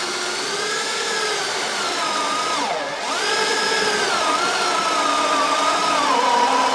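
A power drill boring a hole in an RV sink makes a steady, loud motorized whine throughout, dipping in pitch briefly midway as if bogging under load, then resuming at full speed.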